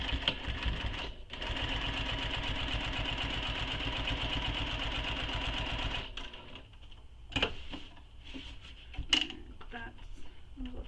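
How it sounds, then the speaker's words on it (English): A sewing machine stitches a bag panel in one steady, rapid, close burst of whirring for about five seconds, then stops, followed by faint handling clicks and rustles. "So I'm now going to stitch down the side across the bottom and back up the other side."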